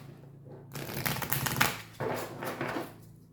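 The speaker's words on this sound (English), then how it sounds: "So let's pull another oracle card from this deck here." A deck of oracle cards shuffled and handled close up, two bursts of riffling, flapping card noise, each lasting about a second, with no one speaking.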